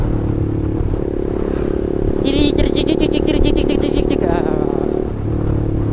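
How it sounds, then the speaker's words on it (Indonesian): A Honda CBR 150R Facelift motorcycle running steadily with a rattling, clattering stock chain and gear noise over the engine, and a brief word spoken partway through. "gear bawaan sama rantai bawaan CBR 150R ini berisik"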